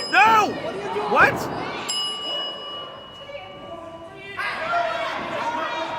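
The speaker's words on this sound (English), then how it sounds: "Face Summers just rang the bell." A wrestling ring bell is struck at a live event, giving a sharp metallic ding that rings out and decays, amid crowd noise and excited commentary.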